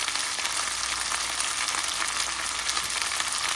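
Spices such as turmeric and chili powder frying in a pan with ginger-garlic paste for a chicken giblet dish, a dense, loud, continuous sizzle with faint stirring beneath, steady throughout and close.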